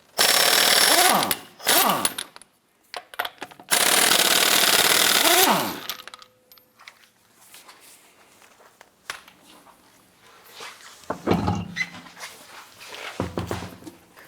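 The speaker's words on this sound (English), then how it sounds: "Using a 22mm socket, go ahead, remove the lug nuts, and pull the wheel off" Lug nuts come off a 2007-2014 Cadillac Escalade wheel with a 22mm socket on a powered wrench: three loud, close, rattling bursts over the first six seconds, then quieter clanks and handling noises with a few soft knocks.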